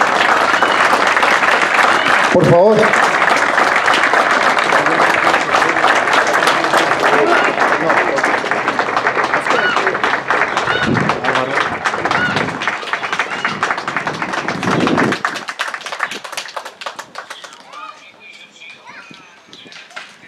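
Loud, steady crowd applause at a posthumous memorial ceremony for a football figure, continuing with a few sharp thumps before thinning out and fading; a voice speaks briefly at the start.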